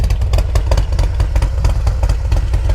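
A Harley-Davidson Road Glide Ultra idles through loud aftermarket exhaust pipes, a steady deep rumble with a quick uneven lope, close and loud with no talk.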